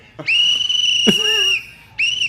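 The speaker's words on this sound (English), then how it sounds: "Enough of the whistle. Sorry, guys. Sorry about the whistle." A shrill whistle is blown in two loud, sustained blasts, the first over a second long with a brief shout-like burst mid-way, the second starting shortly after a pause, close and piercing.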